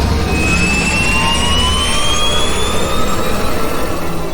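Starship engines throttling up, heard as a loud, steady jet-like roar with rising whine tones that fills the whole stretch without a break.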